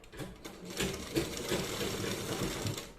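A sewing machine runs a quick tacking stitch across fabric for a designer top: a steady, fast, rhythmic whirring chatter of the needle mechanism that holds for about three seconds at modest volume, with no talk.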